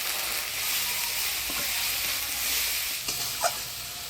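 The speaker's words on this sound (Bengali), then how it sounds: "ফোড়নের তেলে মশলাটা ভালো করে নাড়াচাড়া করে নিলাম" Ground cumin, ginger and green chili paste with turmeric and salt fries in hot tempered oil, a steady hissing sizzle with a few soft stirring scrapes and a light knock near the end, close and unvoiced.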